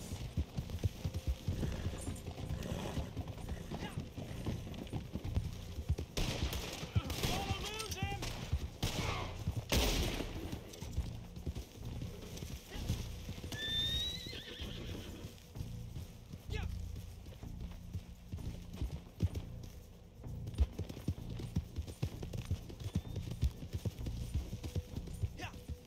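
A horse's hooves clip-clop steadily in the Western video game Red Dead Online, mixed with scattered bursts of gunfire, while people talk loudly over the sound throughout.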